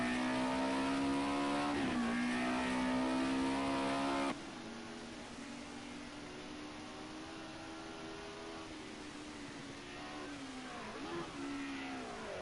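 Touring race cars drone around Donington Park, their engines a steady high-pitched whine that shifts as they brake and accelerate. The sound is loud at first, then drops to a more distant, continuous hum.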